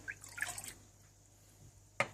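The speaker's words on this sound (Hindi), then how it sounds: "देचकी में पानी डालें," Water splashes into a cooking pot (degchi) as the base for jalebi sugar syrup. A few faint drips and trickles come first, then a brief, sharper splash near the end, close by in a quiet kitchen.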